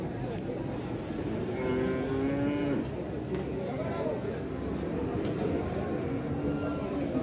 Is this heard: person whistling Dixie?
no